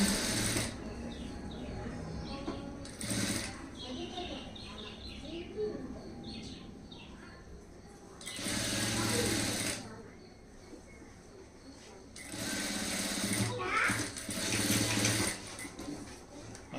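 Sewing machine stitching the shoulder joint of a high neck blouse, several bursts of rapid mechanical whirring of a second or two each, separated by quieter gaps with a voice talking and birds chirping faintly.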